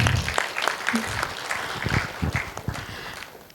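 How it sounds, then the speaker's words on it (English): Applause from the audience at a paramedical business conclave forum, a short burst of scattered clapping with some voices underneath. "a big applause to the Pune RMB team"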